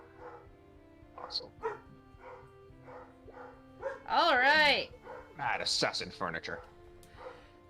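Dogs bark and whimper nearby in a house while furniture is being smashed, with a loud burst of whining barks midway, then more yelps; people talk throughout.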